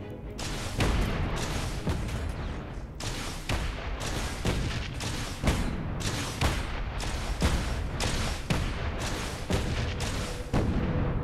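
Rockets fired in the space game Space Engineers, a rapid series of loud, sharp booming launches and blasts repeating in quick irregular succession for several seconds with no talk over them.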